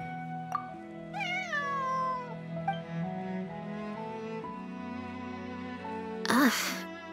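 Cat in Genshin Impact giving several drawn-out, rising meows across the stretch, close and fairly loud over a soft background tone, ending in a short sharp burst.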